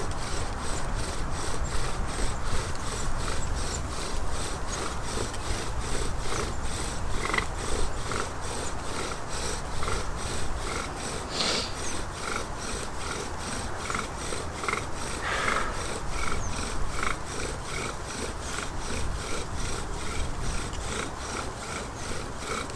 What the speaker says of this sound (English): So always start slowly with the bow drill, preserving energy.